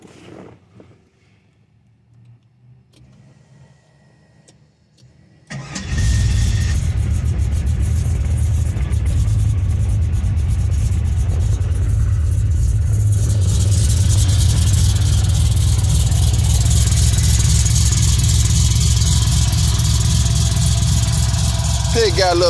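A 1968 Grand Prix with a stage 2 cam fires up after a few quiet seconds and then idles loud and close with a lumpy, rumbling note that holds steady for the rest of the clip.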